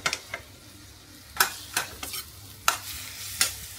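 Bean sprouts (tauge) are stir-fried in a pan, a soft steady sizzle punctuated by several sharp clacks and scrapes of a utensil tossing them at irregular intervals.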